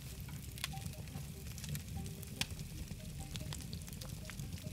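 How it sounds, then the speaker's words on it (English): Fish frying over a fire in the survival video game SCUM, a steady faint sizzle with scattered crackles and pops throughout, heard alone without talk. "it is cooking because you're getting the sizzling sound"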